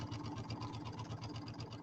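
A sewing machine runs steadily at speed, stitching back over a seam on a quilted bench-pillow project, its needle giving a fast, even mechanical rhythm close by with no talking.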